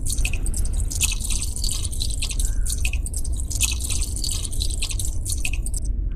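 Fuel being poured into a car in the Granny horror video game, a continuous wet glugging and dripping stream that holds steady for several seconds with no talk.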